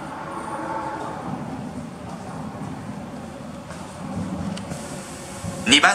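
An Osaka Metro Nagahori Tsurumi-ryokuchi Line 70 series train rumbles and hums arriving at platform 2 of Kyobashi station, growing slightly louder toward the end, while a station announcement talks over it.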